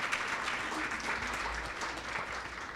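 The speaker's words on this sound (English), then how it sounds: "I think that deserves applause." An audience at a Hispanic Heritage Month celebration applauds in a steady, moderately distant wash of clapping that holds evenly throughout.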